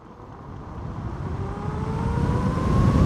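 A Tommebike Icon electric motorcycle accelerates hard, its motor whine rising steadily in pitch over a broad road and wind rush that grows louder throughout.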